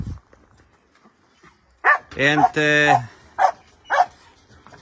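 Rescued dogs bark and yip in a few short, close bursts, with a person talking over and between them.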